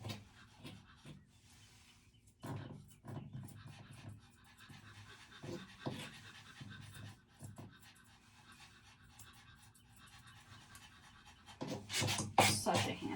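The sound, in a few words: Maltese dog panting during grooming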